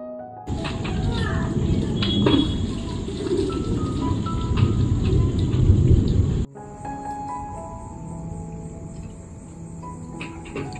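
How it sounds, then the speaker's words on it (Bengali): Heavy rain with thunder pours steadily outside at night, loud and dense, then the sound cuts abruptly to a quieter, still-steady rain with a high insect-like drone. "প্রচণ্ড বৃষ্টি, মেঘ ডাক ছিল বাইরে"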